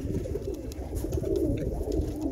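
Roller pigeon cock bird cooing in a loft, a low steady murmuring coo running throughout at moderate volume with faint background rustle.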